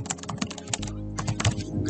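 A file name is typed quickly on a computer keyboard: a close run of crisp keystroke clicks, then a brief pause and another burst of keys. No one speaks.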